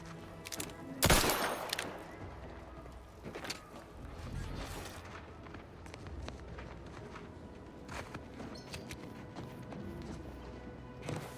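Gunshots in the video game The Outer Worlds 2, opening with one loud sharp blast followed by scattered quieter shots and clatter.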